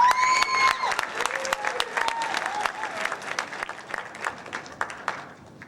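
Applause for students at a high school awards ceremony, many hands clapping in a full burst that gradually thins to sparse claps, with a voice speaking at the start.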